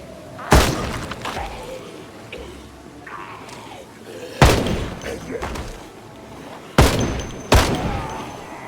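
A shotgun in the zombie survival game Project Zomboid fires four loud, close blasts at irregular intervals, each a sharp boom with a short ringing tail, while someone talks between the shots.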